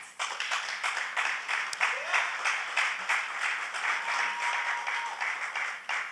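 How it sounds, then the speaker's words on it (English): Audience applause at a sixth form college graduation ceremony in Nevis, a dense, sustained round of clapping from a crowd in a hall, steady throughout with faint background voices. "Mrs. Dorr, we appreciate you, we applaud you"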